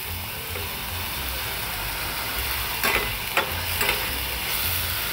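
Eggplant pieces fry in oil while a Bengali mustard-sauce boal fish dish is being cooked. A constant, fairly soft sizzle runs throughout, with a few brief clatters of stirring near the middle.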